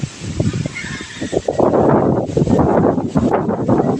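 A strong, roaring typhoon gust of wind sweeps in and stays loud and steady, preceded by a rougher, gustier stretch of buffeting air, in Biliran, Philippines.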